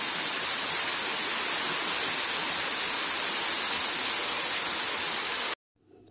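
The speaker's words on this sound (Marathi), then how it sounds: "बघा कसा मस्त धो धो पाऊस पडत आहे" Heavy monsoon rain pours down in a dense, steady hiss, loud and unbroken, then cuts off abruptly near the end; no voices.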